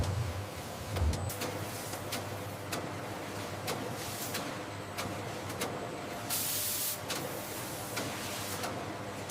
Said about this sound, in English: Positioning adhesive is sprayed in a matrix grid pattern, ensuring adhesion while maintaining product flexibility.